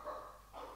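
A dog in a radio drama gives two short, faint barks in quick succession, heard alone against a quiet background.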